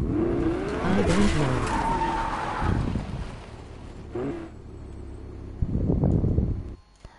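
Car driving and skidding in a video game: loud tire screeches and engine noise sweep through the first few seconds, followed by a quieter stretch, then another burst of skidding near the end.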